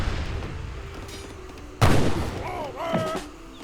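Gunfire and cannon fire in Age of Empires 3 Definitive Edition, with organ guns and a heavy cannon in a battle: scattered shots, then one loud boom near the middle followed by game sound effects.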